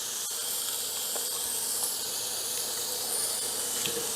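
A sous vide steak sears in a hot pan, a steady loud sizzling hiss with faint crackles and pops, no talking.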